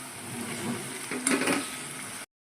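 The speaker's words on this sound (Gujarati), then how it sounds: "હવે આમાં નાખી દઈએ આપણી બાફેલી મેગી, એક સરસ મજાનું હલાવી લેવાનું" Boiled Maggi noodles are stirred in a pan, a soft steady sizzle with a brief scraping stir around the middle, moderately quiet and ending abruptly.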